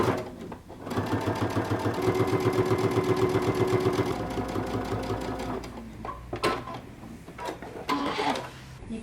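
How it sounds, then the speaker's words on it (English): A sewing machine runs in a fast, steady whirring stitch around the edge of a fabric pocket flap, close by, then slows and stops, followed by a few handling clicks and rustles. "Okay, I have my pocket flap, so I'm going to stitch all the way around"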